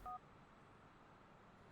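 Two short, faint mobile phone keypad dialing tones play in the video game Grand Theft Auto IV, followed by quiet background and then a sudden loud burst at the end.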